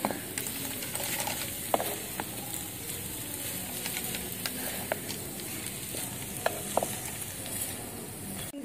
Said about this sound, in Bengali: এটাকে আবার ভালো করে মিশিয়ে নেব